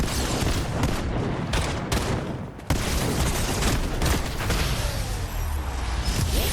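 Gunfire in Fortnite Chapter 5 Zero Build: a dense burst of rapid, loud shots fills the whole stretch, with one brief gap before the firing resumes unbroken.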